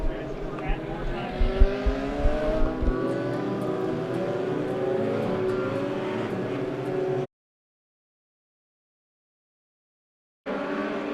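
Race cars at Monett Motor Speedway accelerate hard out of the turns onto the back stretch, a loud sustained engine roar with rising revs, then a break in the sound before the roar resumes.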